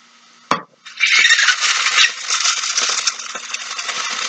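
Veggie hash browns with mushrooms and onions start cooking in a pan: a sharp clatter as they go in, then a steady, fairly loud sizzle that holds for several seconds, with no talking.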